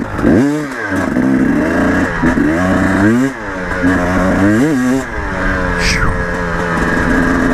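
A KTM 300 two-stroke dirt bike engine runs close and loud at low RPM, rising and falling through several throttle blips and revs with a raspy, buzzing tone.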